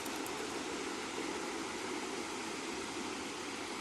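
Tharabu waterfall near Paderu sends a constant, loud rush of falling water close by, a dense roar that stays even throughout with no voices.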